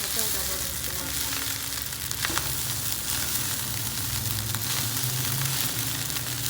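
Indonesian kampung fried rice with anchovies being stir-fried in a pan, a dense steady sizzle close by with stirring scrapes and a voice speaking faintly beneath.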